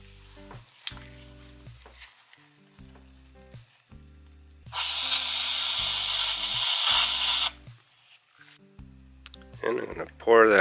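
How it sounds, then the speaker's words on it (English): Voices speak with pauses, then a loud, steady hiss of a spray can sprayed into a covering cap runs for about three seconds before the talking returns. "I'll cover up the can while I spray it to kind of keep the overspray down."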